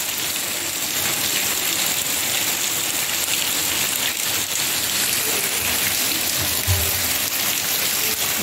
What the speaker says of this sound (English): The rain is here.